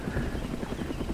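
A DayZ Littlebird helicopter passes nearby around Cherno in a short burst of loud, continuous rotor chop and engine drone. No one speaks.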